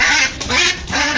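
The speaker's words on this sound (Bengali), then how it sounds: "দেখছেন হাঁসগুলো বের হয়ে গেল।" Ducks on a duck farm in Bangladesh quack loudly and close by, giving several quick overlapping calls in a short burst, with no talking.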